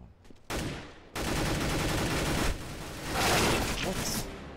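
Dense bursts of CS:GO gunfire on Xbox One, loud and close, with sustained automatic fire stretching across most of the moment after a brief quiet start.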